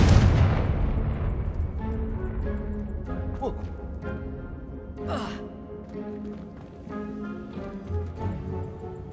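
A Confringo fire spell explodes in Hogwarts Legacy with a loud, close blast at the start that fades into a rumbling tail, followed by a few softer magical whooshes and crackles over a layer of game music.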